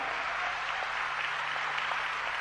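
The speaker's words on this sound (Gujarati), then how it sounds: "તાળીઓથી વધાવી લો." Steady applause from a live audience at a Gujarati folk storytelling performance by Mayabhai Ahir, dense and continuous at an even level for the whole stretch, with no voices over it.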